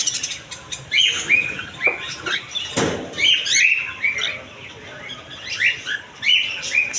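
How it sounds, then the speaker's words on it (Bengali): Budgerigars and cockatiel chicks in a pet bird shop chirping and twittering steadily, many quick high calls overlapping at close range, with a brief scuffle or flutter midway and no talking. "প্রথমে বাজরিকা পাখির দেখা এদিকে আছে ককাটেল পাখির বাচ্চা"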